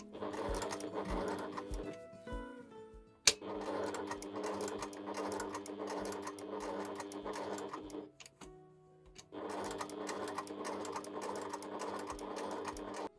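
A sewing machine stitches fabric for tiny Easter bunnies, running in long steady rhythmic stretches with brief pauses between them, close and clear with no talking.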